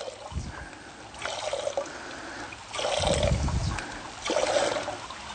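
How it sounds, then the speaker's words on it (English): A hand-pumped group water filter for expedition use lets water trickle and splash in three bursts, each swelling then fading, heard fairly close with no talk over it. "it does require somebody to be continually pumping it in order for it to work"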